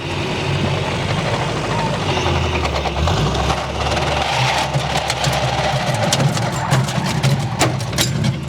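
A lawn mower engine runs with its cutting deck blades engaged, giving a steady, loud, close drone that shifts in pitch partway through and carries rattling vibration throughout.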